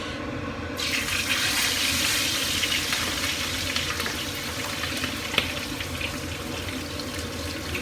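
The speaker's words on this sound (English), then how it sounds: "So now our oil is hot. We put our fish." Fish dropped into hot oil for masboosh, a loud dense hiss of frying that swells suddenly at the start and holds steady and close, no talking.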